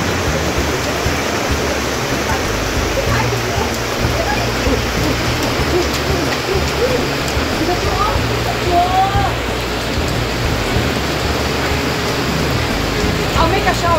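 Heavy rain pours in a dense, loud, constant roar, with a few faint higher chirps or squeaks briefly surfacing over the downpour.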